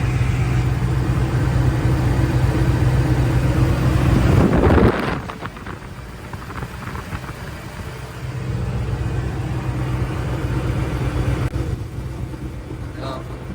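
A truck engine runs steadily at idle outdoors with possible lifter noise, a low continuous drone under wind buffeting, dropping in level midway and then resuming at a steady hum.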